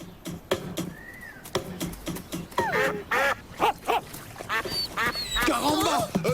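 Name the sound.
duck quacking in a cartoon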